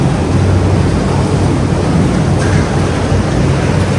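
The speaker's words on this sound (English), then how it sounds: "And here is the jacuzzi, personal jacuzzi." A personal jacuzzi churns with steady, loud bubbling and rushing water, a continuous close wash of noise with no talking.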